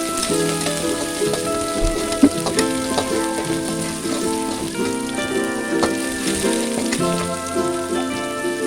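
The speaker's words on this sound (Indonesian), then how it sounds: "Kemudian ditumis hingga harum" Red curly chili and spices sautéing in a frying pan, a steady loud sizzle and crackle of frying throughout, with occasional stirring clatter and no talk.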